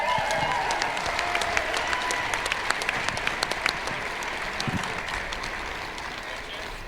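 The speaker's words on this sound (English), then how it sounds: "Ladies and gentlemen, one more round of applause for Hope College President Matt Scogan" A crowd at an NCAA Division III women's basketball game between Hope College and Alma College applauds in a gym, steady clapping with some sharp individual claps that gradually fades.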